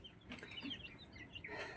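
A mother hen with a large brood of newly hatched chicks, with soft clucks and high chick peeps scattered through a short, fairly quiet stretch.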